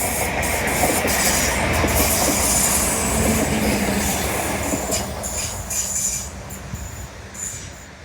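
A vintage train rolls past along the seawall at Sprey Point, a loud, close, sustained rumble with wheel clatter and high metallic squeals that gradually fade as it moves away.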